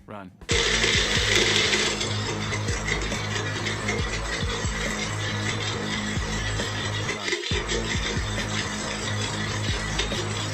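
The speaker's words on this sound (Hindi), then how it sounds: "आपको बस 1-2 मिनट के लिए मिक्सी में उसको पीसना पड़ेगा।" A kitchen mixer grinder runs on lemon, vinegar, salt and water, starting abruptly with a loud, steady motor whine and churning rattle that continues with a brief dip partway through.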